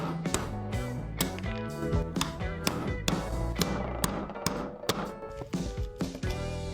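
Sharp, irregular metallic taps and knocks as screws are knocked out of a PPSh submachine gun during restoration, with music playing underneath.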